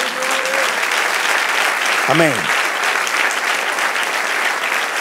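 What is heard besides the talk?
congregation applauding in church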